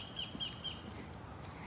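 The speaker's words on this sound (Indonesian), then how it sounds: "Ada suara burung." Faint, distant birds give three short, high chirps in quick succession over a quiet outdoor hush on a deserted beach path at Saba Beach in Gianyar, Bali.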